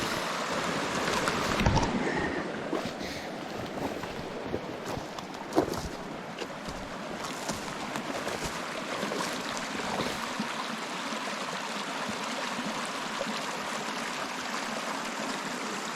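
Flood water rushes steadily through a swollen stream during high water, a constant broadband roar close by with a few brief louder splashes and no speech.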